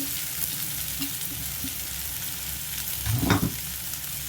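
Thinly sliced onions dropped into hot oil with already-fried green chillies for an egg poriyal, a dense steady sizzle close by, swelling briefly louder as the onions are stirred.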